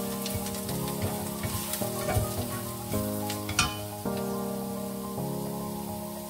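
Garlic and ginger sizzle and crackle in hot oil while frying for butter chicken, a dense, continuous sizzle with occasional sharper pops and stirring scrapes, over a steady sustained musical drone.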